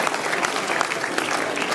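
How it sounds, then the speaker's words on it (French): Many hands clap together at an awards presentation for a half-marathon race in Nuits-Saint-Georges, a thick, continuous burst of applause close and loud throughout. "on peut les applaudir très fort"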